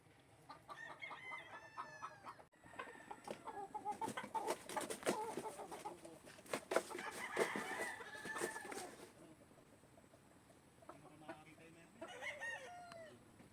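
Chickens around a brooding hen nesting on top of a coop, with a rooster crowing and several birds clucking. The calls are moderately near, come in clustered bursts and ease into quieter clucks toward the end.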